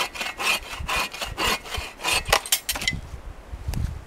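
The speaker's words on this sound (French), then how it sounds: "Alors je vais reporter cette hauteur-là en bas et je vais scier." Steady back-and-forth strokes of a hand saw biting through a wooden log propped on a support, a rapid rhythmic rasp that slows and stops near the end, at a winter camp.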